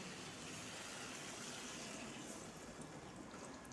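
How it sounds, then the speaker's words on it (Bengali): Hot water poured into a cooking pot holding a spiced ridge gourd and prawn curry, a faint, steady rushing stream lasting a few seconds without any voices. "পরিমাণ মতো গরম জল দিয়ে দিলাম"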